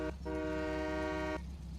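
An old-school truck horn in a farming video game gives a quick short toot, then one steady honk of about a second over a low idling engine.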